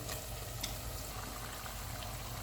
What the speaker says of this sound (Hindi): प्याज फ्राई हो गए हैं, इसमें हम मटन डाल देंगे